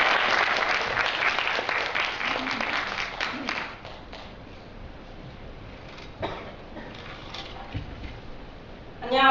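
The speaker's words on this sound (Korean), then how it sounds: "모두 힘찬 박수로 맞아주시길 바랍니다." Loud audience applause at a Korean university student forum general assembly swells at first, then thins and fades to scattered claps, with some murmuring and a short burst at the end.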